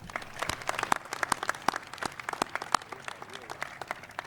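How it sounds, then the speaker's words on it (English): A round of applause at a ribbon-cutting ceremony for the Atlanta Public Safety Training Center, with steady, moderately dense clapping from a crowd heard at some distance. "So please join me in a round of applause for Jenny."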